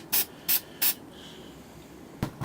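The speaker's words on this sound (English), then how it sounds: "just kind of give a little mist right there" Three short, loud bursts of white spray paint misting onto a shoulder area, evenly spaced, followed by a quieter stretch and a couple of faint knocks near the end; no talking.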